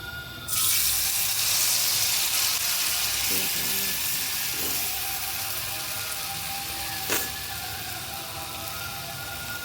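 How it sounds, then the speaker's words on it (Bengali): Lentil cakes (dhoka) fry in hot oil in a wok, a steady close sizzle that starts abruptly and continues with a few light clinks, under faint talk. "তেলটা একটু গরম হয়ে যাক, তারপর আমার ধোকাটাকে যে মেখে রেখেছি গরম জল দিয়ে এটা ভাজবো।"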